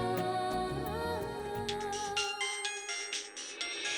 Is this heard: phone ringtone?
yes